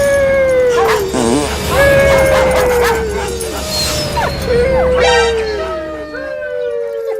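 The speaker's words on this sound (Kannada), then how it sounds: "ಈ ಸೀನ್ ಅಲ್ಲಿ ನಮ್ ಬಾಸ್ಗೆ ಕಚ್ಚಕ್ಕೆ ಅಂತ 4 ನಾಯಿನ ಬಿಡ್ತಾನೆ" Several dogs loosed to attack in a Balayya film scene yelp, whine and howl in rising and falling cries, loud and close over a steady background din.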